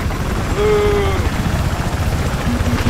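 Helicopter in the video game Battlefield 4: a loud, steady low rotor rumble with a brief rising engine whine.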